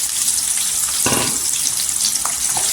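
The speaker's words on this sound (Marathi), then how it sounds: "इथे तेलावर परतायचं।" Sliced onions sauté in hot oil with curry leaves, a loud continuous sizzle close up, briefly swelling with a sharper crackle partway through.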